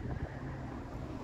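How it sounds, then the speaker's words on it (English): Steady low rumbling wind buffets the microphone, a continuous muffled roar with no voices. "It's a windy day out today."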